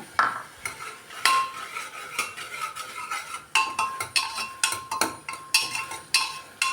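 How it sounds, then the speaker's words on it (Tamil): Dried red chillies are sautéed in a pan, with repeated metal spatula clinks and scrapes coming in a quick, uneven rhythm, close and fairly loud, over a faint frying hiss. No voices. "எடுத்து வச்ச மிளகாவை நம்ம போடணும் போட்டு நல்லா வதக்கணும்"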